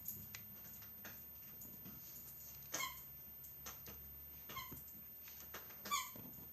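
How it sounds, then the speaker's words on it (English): A dog squeaks in a few brief, high, faint bursts, spaced a second or two apart over a quiet room background. "that's the dog squeaking."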